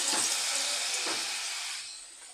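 Loitta fish pakora hitting hot oil in a kadai, a bright broadband hiss and sizzle that swells as the battered fish drops in, then slowly fades and thins over a couple of seconds.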